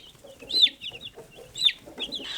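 Young meat chickens chirp and cluck softly nearby, with a few sharp high peeps at intervals over quiet background rustling.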